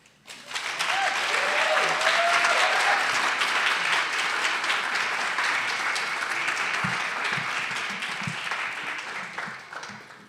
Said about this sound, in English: Can we get another round of applause for Hannah, please?